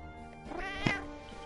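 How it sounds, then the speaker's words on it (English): A cat gives a single drawn-out, strained meow, close and moderately loud over quiet background noise. "He meows himself."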